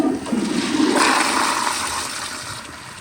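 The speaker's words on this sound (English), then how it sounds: "hopefully I can flush it and this flushometer doesn't lift up" A 2019 Kohler Highcliff Ultra toilet flushes through a flushometer valve with a loud, steady rush of water that swells after the first second and stays strong for about three seconds, heard up close and alone.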